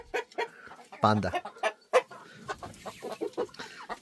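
A rooster and chickens cluck in a backyard coop, with close, repeated clucks and one louder squawk, while a person speaks briefly between the calls.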